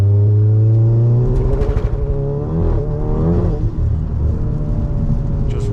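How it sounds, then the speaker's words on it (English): A 500 BHP VW Golf GTI with an opened-up exhaust revs hard from inside the car, its engine droning and climbing in pitch with loud, rumbling exhaust, no talk over it. "I think the exhaust has been opened up unless we've got a leak somewhere."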